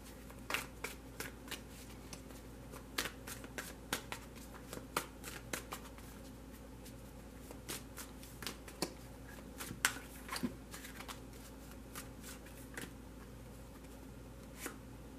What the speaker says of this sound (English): we're only going to shuffle for a moment